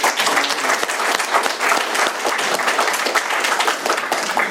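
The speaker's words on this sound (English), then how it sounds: "Let's give Lukas another round of applause" A crowd applauds at an Alcoholics Anonymous speaker meeting, many hands clapping in a loud, dense, continuous roar that holds steady from start to finish with no talking over it.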